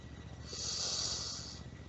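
A single slow, deep inhalation during a relaxation breathing exercise, a soft airy hiss that swells and fades over about a second, close and alone.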